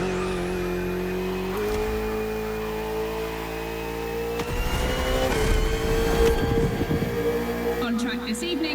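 A Ferrari 488 GT3 race car runs a circuit in The Crew Motorfest with a sustained high engine whine that climbs slowly. Rougher tire and engine noise thickens midway.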